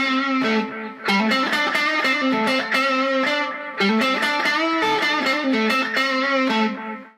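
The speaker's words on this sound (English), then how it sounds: "you just add the delay." Electric guitar played through a NEXI delay pedal: chords strummed in two bright, rhythmic phrases with echoing repeats trailing after the notes, loud and clear with no talking.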